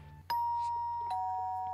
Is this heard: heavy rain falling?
no